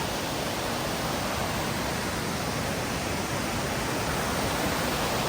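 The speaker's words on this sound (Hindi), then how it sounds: "ये देखो यार, ये एक वाटर क्रॉसिंग झरना" Waterfall stream at a trail water crossing on a Valley of Flowers trek, a loud constant rushing roar of falling water close by, broadband and unbroken.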